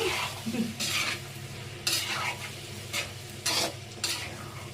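A spoon stirs chicken liver and gizzard fry seasoned with coriander powder in a hot pan. Repeated scraping strokes rasp against the metal over a steady sizzle, with no talking.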